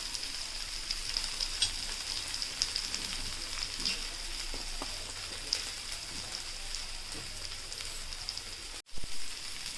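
Cluster beans (guar) fry on a tawa with a soft, even sizzling hiss and faint stirring taps, with a brief pause near the end.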